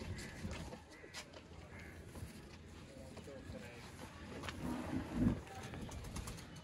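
Breeder pigeons, a pair of zeera kabootar, coo softly at close range over a busy background murmur, with a slightly louder burst of coos near the end.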